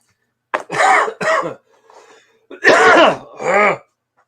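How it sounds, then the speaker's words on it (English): Two pairs of harsh, throaty coughs, close and loud, separated by a short quiet gap with a faint breath. "Coughing."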